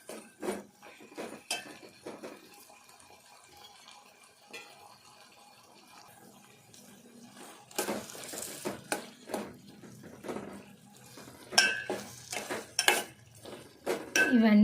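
Potatoes fry and get stirred in a pot while making aloo biryani, with repeated metal scrapes and clanks of a spoon against the pan coming in irregular bursts, close and fairly loud, with quieter gaps between.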